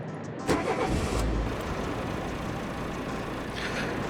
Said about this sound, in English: I turned on the engine and hit the road.